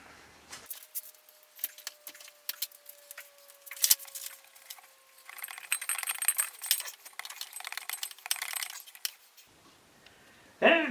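A knife slicing open packaging on the parts of a Powerfist sandblaster during unboxing, with scattered sharp clicks, rustles and scraping cuts, some quiet gaps and a busier patch of crinkling in the middle.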